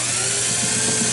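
A power screwdriver removing a cooler's outer screws gives a brief, steady high-pitched whine up close.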